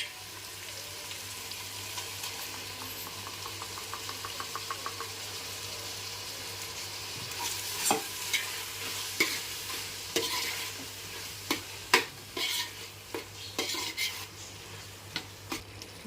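Steady sizzling of ground coconut frying in a pan, with intermittent scraping and knocking as it's stirred with a utensil, growing busier toward the end.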